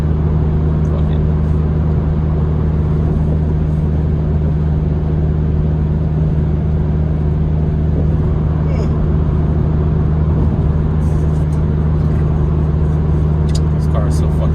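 Steady low engine drone and road rumble inside a moving Mazdaspeed3 with tinted windows, a continuous close hum with no one speaking.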